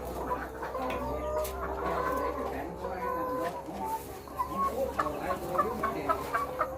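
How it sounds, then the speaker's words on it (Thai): Laying hens clucking on a small home farm, a busy flock of soft, overlapping clucks and calls close by, with a steady low background hum throughout. "ไก่ไข่ครับพี่น้อง"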